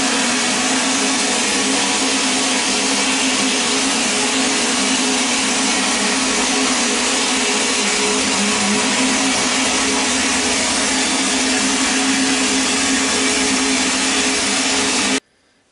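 A vapor honing machine blasts brake parts with a loud, constant hiss and roar, a steady broadband rush that runs unbroken and then cuts off abruptly at the end.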